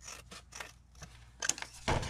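Scissors trimming an uneven edge off paper for a watercolour folio, several short crisp snips in an irregular rhythm, close and fairly quiet, with no talking.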